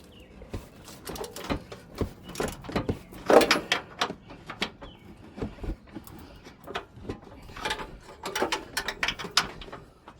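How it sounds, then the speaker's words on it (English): Ratchet wrench turning 19 mm upper control arm bolts on the front suspension of a 2005–2012 Nissan Pathfinder 4WD, with bursts of rapid clicking and metallic clanks, loud and close, separated by short pauses. "we're gonna open up these bolts over here. I believe they're 19. Hold from one side and then open the other."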